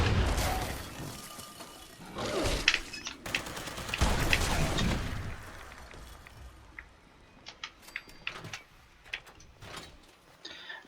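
Explosive Tesla rifle in Fallout 76 firing in a burst of loud crackling, blasting discharges over the first five seconds, then fading into scattered sharp clicks and small pops.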